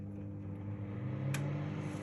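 A Toshiba microwave oven runs while heating a plate of water, giving a low, steady hum with a faint electrical drone and one brief soft click midway.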